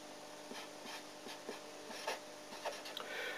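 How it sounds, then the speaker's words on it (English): Pen writing on an exam paper close up, soft scratchy strokes with faint periodic taps as the nib lifts and lands, quiet and alone without talk. "P to Q, well, that's the answer there, so let's write that in"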